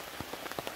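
Rain patters steadily on a tarp at a solo woodland campsite, a dense hiss of drops with a few sharper taps close by, all very brief.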